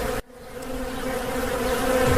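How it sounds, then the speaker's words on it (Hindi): A swarm of honeybees hums in a dense, steady drone, loud and close, swelling slightly after a brief sharp cut at the start. "उस पर सारी मधुमक्खियाँ चिपक गई।"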